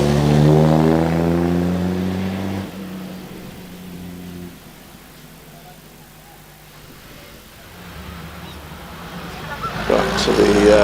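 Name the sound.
vintage Delahaye racing car climbing Prescott hill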